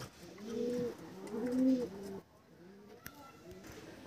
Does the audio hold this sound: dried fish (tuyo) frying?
no